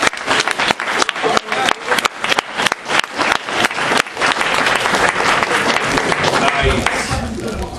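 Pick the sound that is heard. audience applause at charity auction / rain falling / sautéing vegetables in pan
audience applause at charity auction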